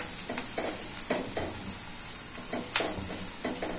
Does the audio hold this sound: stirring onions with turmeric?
yes